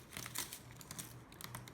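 Spent tape backing from a tape dispenser is crumpled and pulled out, giving close, irregular crinkling and rustling with a few sharper crackles over a low hum.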